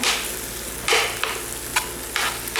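A spoon stirs vegetable macaroni with ketchup and tomato sauce in a hot pan, giving a continuous sizzle broken by several distinct scraping strokes against the pan, close and moderately loud.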